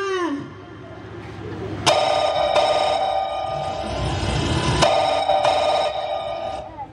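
A telephone rings during a comic Marathi stage play about mobile phone addiction, in two loud electronic bursts of about three seconds each, with the audience and background noise audible underneath.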